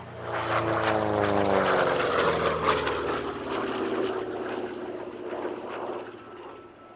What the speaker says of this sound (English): Fighter Aviation Engineering's P-47D Thunderbolt found itself flying in probably the